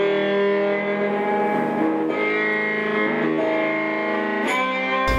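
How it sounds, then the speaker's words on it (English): A one-string cigar box guitar run through heavy distortion plays a sustained, buzzing riff with thick harmonic overtones, loud and steady throughout, with a brief scrape or pick noise near the end. "just made this epic cigar box, you know, one string, big distortion thing with Grant keeping up on the dr"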